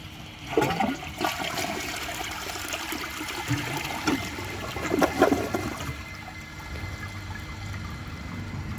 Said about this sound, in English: Took 2 flushes, but it got him through.